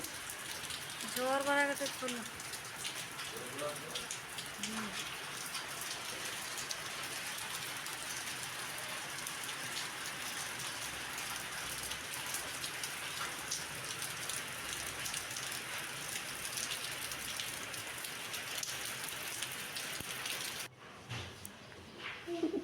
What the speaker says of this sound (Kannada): ಇವತ್ತು ಹೇಗೆ ಮಳೆ ಬರ್ತಾ ಇದೆ ನೋಡಿ ಹೊರಗೆ ಹೋಗೋಕ್ಕೆ ಇಲ್ಲ